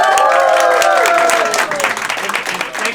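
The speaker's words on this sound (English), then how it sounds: "So big round of applause for them." Loud, dense applause fills a hall at a Pokémon GO Kingdom Cup tournament in Singapore, steady at first and then thinning slightly, with some crowd noise and whistle-like tones mixed in.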